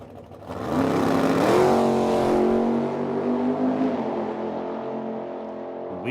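A 1969 or 1970 Ford Mustang drag racing at Medicine Hat, Alberta, its engine swelling loudly as it launches, then holding a steady roar that gradually fades into the distance.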